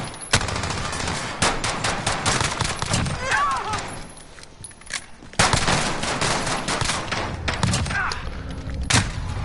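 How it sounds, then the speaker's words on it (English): Pistol fire in the video game Modern Warfare comes in dense, snappy volleys of loud, close shots, with a short lull near the middle before another rapid string. "Let's do the pistols now with a lower sensitivity, which is what you need to play on."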